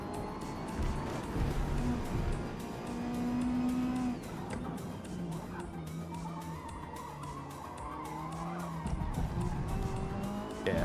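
A Hyundai Elantra TCR race car in the Forza Motorsport video game roars continuously at high revs, engine pitch climbing and dropping through gear shifts, with tire squeal and other cars close by throughout.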